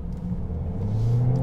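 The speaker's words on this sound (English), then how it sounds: "this four-cylinder, this dynamic force, it pulls extremely well for what this is" Four-cylinder Dynamic Force engine of a 2020 Toyota Corolla XSE pulling under acceleration while driving, a low rumble rising into a steady droning whir, heard alone without talk.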